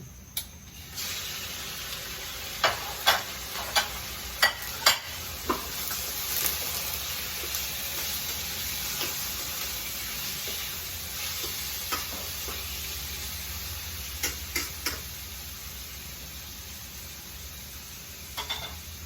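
Chicken pieces fry with onion and garlic in a pan, giving a steady sizzle while a utensil stirs and scrapes. The scrapes come as sharp knocks, clustered early on and again near the end.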